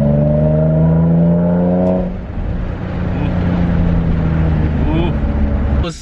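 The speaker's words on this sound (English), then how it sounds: "Dude drove to my neighborhood so he can rev his exhaust." A Nissan 350Z with an HKS exhaust and ISR test pipes revs hard up close, holding a loud rasping high note before dropping back to a deep rumbling idle.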